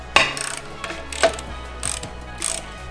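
A socket ratchet clicks in short bursts while loosening a nut on a VW Transporter T5/T6, four or five crisp, close ratcheting runs with brief pauses between them.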